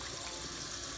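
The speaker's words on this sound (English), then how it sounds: "I'm cleaning this right now. Plastic thing with dish soap in it." Running tap water splashes steadily into a sink while a plastic dish is washed with dish soap, a continuous close rushing and gushing with no pauses and no voices.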